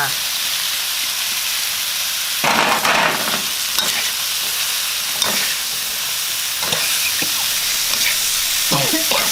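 Fish and lemongrass fry in a pan with a loud, continuous sizzle, while scraping stirs and clatters recur throughout at close range.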